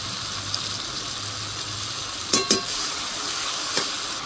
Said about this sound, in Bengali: এর মধ্যে দিয়ে দিব যে করে রাখা মশলাটা, খুব ভালো করে আবারও মিশিয়ে নেব